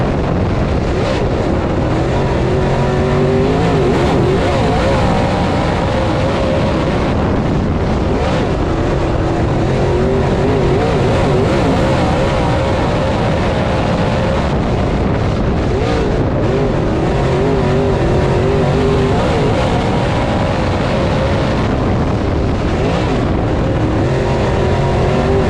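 Race cars roar around the Talladega Short Track, a loud, sustained engine drone that swells and fades as cars pass, heavy wind buffeting on the microphone, and no talk over it.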